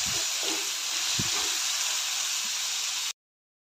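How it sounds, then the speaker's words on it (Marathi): Onion, tomato, ginger, garlic and cashews sauté in a hot pan for palak paneer, giving a steady, loud sizzle and hiss that runs alone without talk before cutting off. "आणि काजू पण यामध्येच मी परतून घेते."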